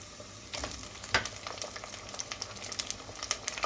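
Chicken pieces sizzling and frying in a pan, a steady crackling hiss with popping spatters, close up and without talk.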